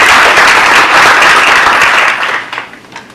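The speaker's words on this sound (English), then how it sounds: "So why don't we give our panelists a round of applause." Audience applause for the panelists at the close of a legal industry forum session, a dense, loud wash of clapping that holds steady for about two seconds, then thins out and fades to scattered claps.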